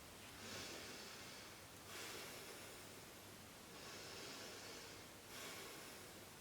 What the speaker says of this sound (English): Just the process of breathing itself has a sound associated with it.